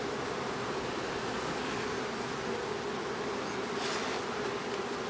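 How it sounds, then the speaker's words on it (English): Honey bees swarm around an open hive box, giving a steady, dense, close buzzing drone that fills the whole stretch without any talking. "there's thousands of bees in this box, and they're not all coming out here"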